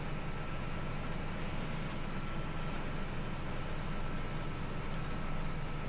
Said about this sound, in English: This 8R is actually a lot louder than all the tractors I have.